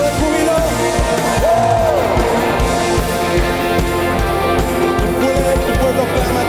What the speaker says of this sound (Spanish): ¿Puedes dar un grito de júbilo?